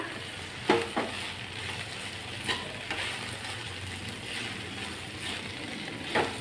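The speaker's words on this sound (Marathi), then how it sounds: "ह्या भेंडीला आपण सात ते आठ मिनिट परत येईल असं परतून परतून घ्यायचं आहे" Okra stir-fries in a pan, with a continuous sizzle broken by a few sharper stirring knocks and scrapes, heard close and alone.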